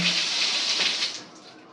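Water runs steadily from a newly fitted washbasin tap supplied from a borewell, a close, continuous splashing hiss that eases off toward the end of the short burst.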